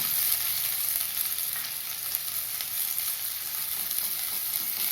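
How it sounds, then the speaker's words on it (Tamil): Sliced onions and cinnamon with cloves fry in hot oil, giving a steady, dense sizzle that stays even and close throughout with no talking. "இப்போ 4 வெங்காயம் நீள வாக்கில் அரிஞ்சு வச்சது, அதை சேர்த்துக்கலாம்."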